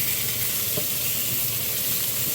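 Kimchi stir-fries in oil over low heat for kimchi stew, giving a soft, even crackle and hiss with a faint stirring scrape, close and steady with no talk.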